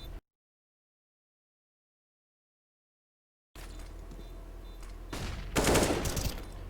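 Gunfire bursts ring out in a first-person shooter match, arriving after a stretch of silence over a steady game backdrop, with the loudest volley near the end.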